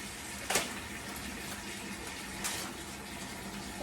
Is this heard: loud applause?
no